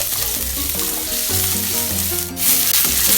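Garlic and ginger sauté in a hot pan for a sweet and sour chicken, with a steady loud sizzle and stirring clatter throughout and a brief hiss burst near the end.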